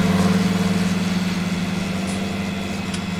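Tractor engine idling in Farming Simulator, a steady low throbbing hum with an even pulsing rhythm, close and continuous with no talk.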